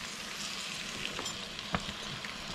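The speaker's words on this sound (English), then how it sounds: "I've got here 500 mils of good beef stock, and I'm just going to add" Good beef stock for Salisbury steak hits a hot pan, giving a steady close sizzle and fry with a couple of soft scraping clicks, no voices.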